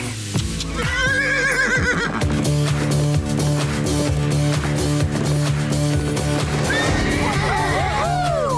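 A mare in a Barbie cartoon neighs loudly in shrill, wavering whinnies at the start and end, layered over a sustained musical score with faint hoof sounds and voices in the background.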